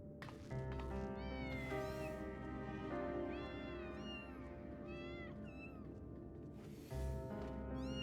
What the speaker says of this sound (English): I love the cats.